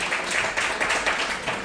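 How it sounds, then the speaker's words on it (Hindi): Audience applause fills a Hindi poetry gathering as listeners welcome the event's organiser: a dense, steady wash of clapping that carries on throughout. "सब लोग ताली बजा के इनका स्वागत करें"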